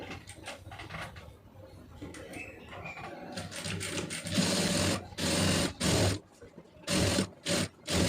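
A sewing machine stitches piping along a blouse neckline, running in steady buzzing stretches that stop and restart in short, sharp bursts toward the end, close and fairly loud.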